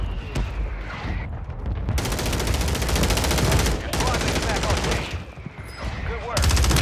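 Mortar strike in the video game Warzone Resurgence, a rapid barrage of loud overlapping blasts and crackling impacts that surges in waves over several seconds.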